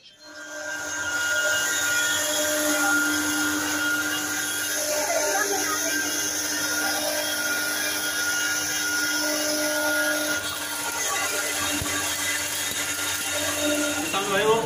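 Commercial auto-feed masala grinding machine running steadily, a loud continuous mechanical whine and hum with a sustained high-pitched tone, the motor droning without pause from start to finish.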